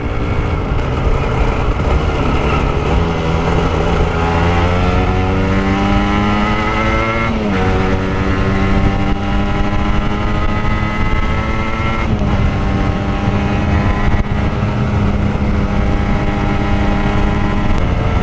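An Aprilia RS 125 motorcycle engine roars loudly and continuously, its pitch climbing through rising revs up to about 7,000 rpm, dropping briefly at gear changes, then rising again.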